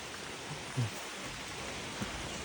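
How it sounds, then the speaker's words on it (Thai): Rain falls on a farm field hut, a soft, steady hiss of drops spread evenly across the clip, faint and distant, with a couple of brief low knocks and no voices. "ฝนตกมาเครื่องตากเต็มระเบียง"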